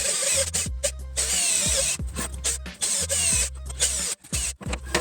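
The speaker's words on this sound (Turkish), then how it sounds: "Şimdi bu kenar kısımları 4 mm çapında deliklerini delelim." A power drill bores 4 mm holes in a broken plastic stroller part, its motor whirring in several short bursts with brief pauses between each hole, close and fairly loud.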